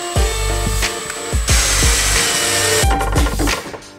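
Saw or cutting tool working through wood to make a half-round notch for a felted piano, loud and close, with repeated strokes and short bursts of rough grinding.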